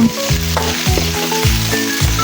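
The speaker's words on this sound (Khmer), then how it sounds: "ប្រេងឆាក្តៅហើយយើងចាប់ផ្ដើមដាក់ខ្ទឹមសរបស់យើងចូល" Garlic sizzles steadily in hot oil in a wok for Khmer stir-fried khjao. Repeated stirring scrapes cut through the loud, close crackle.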